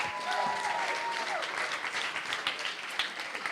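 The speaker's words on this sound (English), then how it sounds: "Can we please have a round of applause for the bridesmaids?" Wedding guests applauding the bridesmaids at a reception, a full round of clapping from a roomful of people that stays steady and fairly close, with a faint tone briefly heard early on.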